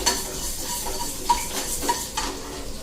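Food frying in a pan while being stirred, a steady sizzle with a few sharp scrapes and clinks of the ladle against the metal, close and fairly loud with no talking.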